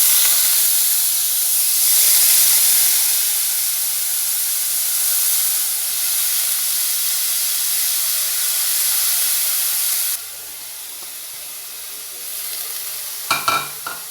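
Chopped banana stem drops into a hot pan for a Kannada-style palya and sizzles loudly, a steady frying hiss with some stirring that dips slightly partway, then brief clatters near the end.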